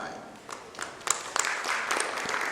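Audience at an industry presentation starting to clap, scattered claps growing into sparse applause, with talk beneath.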